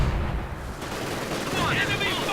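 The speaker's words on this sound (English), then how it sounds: "Granatenwerfer firing in the name of the motherland now. And MG42 moving up as well." A grenade launcher and an MG42 machine gun firing in the Company of Heroes 2 battle game: dense, rapid gunfire bursts blended with muffled thuds, continuous and fairly loud throughout.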